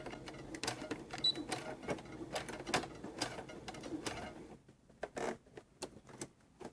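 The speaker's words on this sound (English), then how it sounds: "I am going to have my needle all the way to the end so I can make a really small hem and start sewing those two pieces together" A sewing machine stitches tank top fabric pieces in quick, rattling bursts, stopping and starting with brief pauses and light clicks, at a quiet level.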